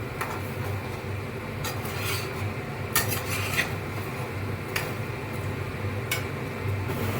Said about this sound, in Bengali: বেগুনটাও বেশ কিছুক্ষণ কষবে তাহলে এর ভিতরে নুন মশলা তেল ঝাল সব ঢুকে যাবে